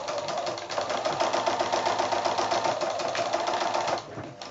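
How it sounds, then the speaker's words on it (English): A sewing machine back-stitches binding on a quilted placemat with a steady, fast, close mechanical whir and rapid needle chatter that stops near the end. "So I'll do a little back stitch just to hold the threads."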